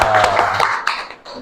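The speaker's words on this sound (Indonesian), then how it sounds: "Tepuk tangan untuk kita semua dulu." A group of people in a classroom lesson claps hands in a brief burst of taps lasting about a second, close and fairly loud, and the sound fades away quickly.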